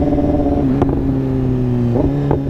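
A 2015 BMW S1000RR fitted with an SC-Project exhaust cruises at low speed, its loud, close engine droning steadily, with brief sharp blips and throttle changes between the steady stretches.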